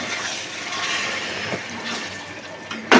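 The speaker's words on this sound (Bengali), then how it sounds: "এই গরম জলটা দিয়ে দিলাম।" Hot water poured from a vessel into a pan of simmering fish curry, a steady watery pour with a hissing splash lasting throughout, ending in a brief louder burst.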